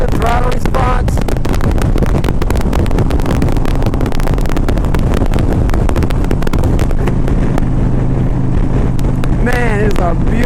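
A 2001 Harley-Davidson Ultra Classic is ridden at speed, its engine drone buried under loud, constant wind rush across the microphone, with a voice faintly audible through the roar.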